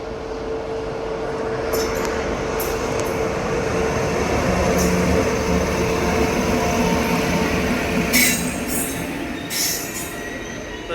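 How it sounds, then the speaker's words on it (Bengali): The Radhikapur Kulik Express pulls into a station platform, with a steady rumble of rolling wagons, a low engine drone and bursts of high wheel squeal, loud and continuous with no voices. "1 নম্বর প্ল্যাটফর্মে আপ হাওড়া রাধিকাপুর কুলিক এক্সপ্রেস আসছে।"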